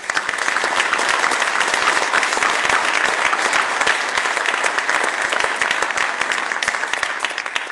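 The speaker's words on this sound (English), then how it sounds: "So please join me in giving a big, big round of applause to Jane Doe and all of us." Sustained audience applause from a large crowd at a Walk for Respect and Dignity event, dense and steady throughout, loud and close with no talking over it.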